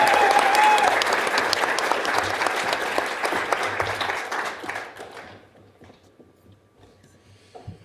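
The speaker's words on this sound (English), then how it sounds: "Round of applause for Aubrey Farr." Loud, full audience applause at a scholarship award ceremony, dense clapping for about five seconds before tapering off into a few scattered claps and quiet room noise.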